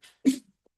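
A single abrupt sneeze bursts out in a lecture hall, sharp and fairly close, after a brief faint breath, then silence follows.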